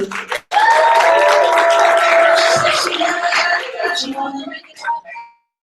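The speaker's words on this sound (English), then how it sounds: "Big round of applause for Justin Legend." An audience at a division meeting welcomes a speaker with loud applause and enthusiastic cheering and whooping that dominate, then taper off.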